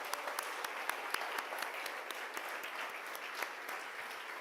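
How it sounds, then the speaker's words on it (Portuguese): A church congregation applauds together, steady, even clapping from many hands filling the room with sharp individual claps standing out. "Você pode aplaudir o Senhor Jesus?"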